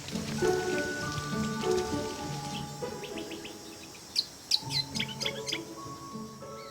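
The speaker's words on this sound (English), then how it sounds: "Hearing the insect life and the bird life" Birds and insects call in wild vegetation: steady insect drone and tonal bird notes throughout, with sharp bright chirps clustering in the second half, near and fairly loud, no talking.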